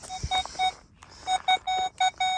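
A metal detector sweeps over a quarter and answers with a run of bright, steady electronic tones: a brief beep, two short ones, then several longer sustained pulses broken by short gaps, alone and fairly close.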